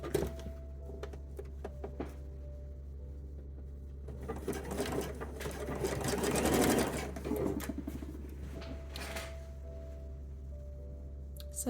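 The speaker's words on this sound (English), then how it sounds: "So I'm going to sew the elastic now." A sewing machine stitches elastic on lingerie, a steady quiet mechanical whir that runs continuously and swells slightly in the middle before easing off, close and alone without talk.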